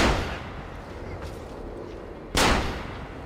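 Gunshots in Assassin's Creed Revelations: a sharp, booming shot opening the moment, its echo decaying, then a second loud blast about two seconds later with a rolling tail.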